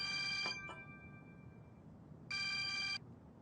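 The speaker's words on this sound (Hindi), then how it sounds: "ईवो तुम्हें फोन कर रहा है।" A telephone rings for an incoming call at night, two harmonic electronic trill bursts, one at the start and another a couple of seconds later, moderately loud over quiet room background.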